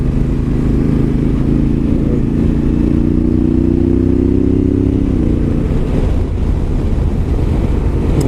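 A Honda Africa Twin DCT motorcycle is ridden on a waterhole trail. Its engine drones steady and loud with heavy wind rush, and the pitch rises gradually and then falls away toward the end. No one talks.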